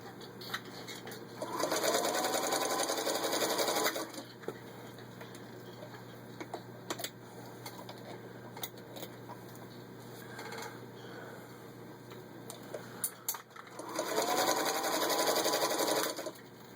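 A 1934 Singer 221 Featherweight sewing machine runs through four layers of denim in two loud, steady bursts of rapid stitching, with a quieter stretch of light clicks and handling between them.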